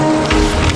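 Steady rain in a rural village setting from a West Java folk tale, a dense continuous hiss that swells and thickens partway through the short moment, fairly loud with no talking over it.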